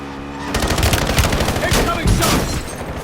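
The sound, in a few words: gunfire in Call of Duty Warzone video game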